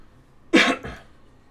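A single short cough, close and clear, followed by a softer second burst, then quiet room tone.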